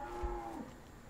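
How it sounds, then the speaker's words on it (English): Brahman cattle in Farming Simulator 17 give a single short, low moo, faint and muffled under game background noise. "that's the new cows"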